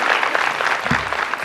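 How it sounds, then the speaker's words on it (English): An audience at a design summit applauds steadily, a dense wash of clapping hands filling the room without pause. "Let's give Ms. Ho another round of applause"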